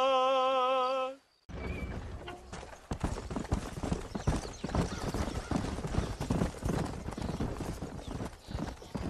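Horses gallop in steady, rapid clip-clop hoofbeats across a Red Dead Redemption cutscene, loud and continuous for most of the stretch after a brief tonal musical intro and a moment of silence.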